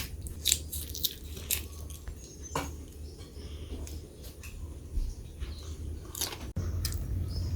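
Someone bites and chews crunchy naus fruit, a tropical island fruit, with repeated close crisp crunches spread over several seconds.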